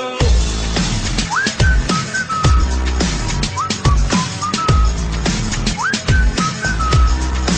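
A whistled melody runs through a hip-hop song, with rising and falling phrases repeating over a thumping beat and bass, loud and up front in the mix.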